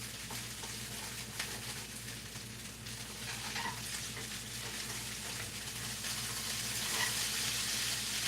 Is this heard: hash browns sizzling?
yes